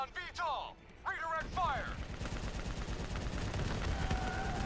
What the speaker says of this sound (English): Oh, is this shooting rockets?